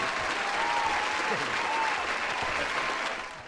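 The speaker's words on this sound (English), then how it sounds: "I'm going to edit in a crowd applause right here." Dubbed-in crowd applause effect on a wrestling interview podcast, a thick, loud, continuous wash of clapping and cheering that tapers off at the end.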